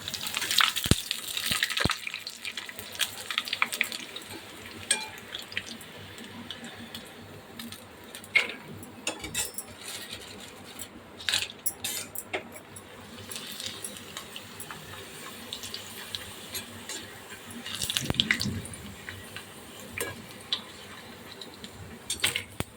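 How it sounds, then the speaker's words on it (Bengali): Papad frying in hot oil in a kadai, giving irregular bursts of bubbling crackle and hiss that swell and fade over a steady low background, close by with no talking. "আর একটুখানি পাঁপড় ভেজে নিচ্ছি।"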